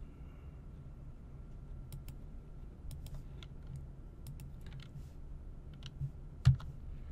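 Soft, irregular keyboard taps click over a low steady hum, a few quick keystrokes scattered across the stretch, close but quiet.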